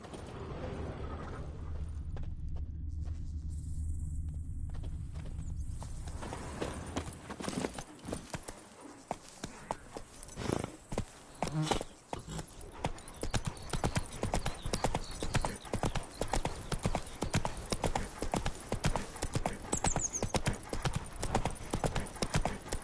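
The horse Roach gallops in The Witcher 3, a rapid, loud clip-clop of hooves that starts after a few seconds of ambient sound and continues steadily, with faint creaks and a brief neigh-like sound.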